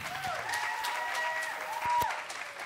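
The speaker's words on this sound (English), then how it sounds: "I would also like you to give a round of applause to the beautiful Brynhildr" Brief applause from an audience at a drag show for a performer, soft clapping running under a voice with a few sharper claps standing out.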